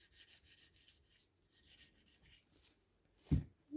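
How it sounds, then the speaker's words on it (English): Sanding of Milliput epoxy putty moulded onto a figure's head, a faint, quiet soft rubbing and scraping that runs through the clip, ending in a couple of brief louder scuffs. "because I moulded it to the shape of his head, the sanding is a lot quicker and easier."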